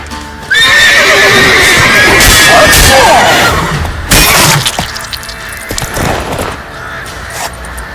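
Witcher 3 game horse whinnying loudly up close, then galloping hooves amid battle noise with crashes and shouting in the background.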